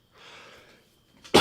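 A single sharp, loud sneeze bursts out at the very end after a stretch of quiet, soft breathy noise.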